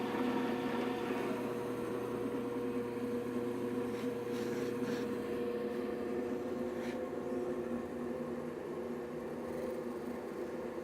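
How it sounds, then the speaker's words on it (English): Low, steady motor hum of a RIKON 17-inch variable-speed drill press with a 1/4-inch bit boring into veneered plywood at low RPM, a continuous drone lasting throughout with faint scraping flickers. "Let's go ahead and punch a hole at a low RPM"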